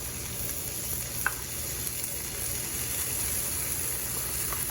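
Cajun pasta sauce with tomato paste, pesto and garlic bubbling on a Blackstone griddle, a constant close sizzling hiss with faint pops, no talk.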